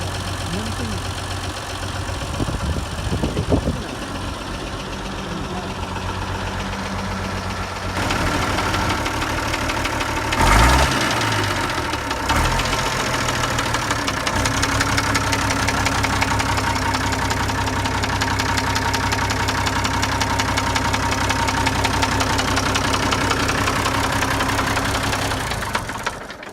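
A Nuffield tractor with a Leyland four-cylinder engine idles steadily with a low, knocking diesel rumble that stays constant throughout, with brief clunks and voices talking nearby.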